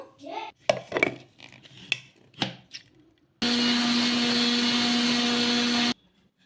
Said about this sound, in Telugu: కప్పు గోధుమ రవ్వని మిక్సీ జార్లోకి అయితే వేసుకుంటున్నాను వేసుకొని మెత్తగా మిక్సీ పట్టేసుకుందాము